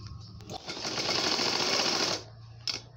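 A sewing machine runs steadily while gathering the falls fabric for a round baby frock, a loud continuous whir of about a second and a half with a faint motor hum before and after.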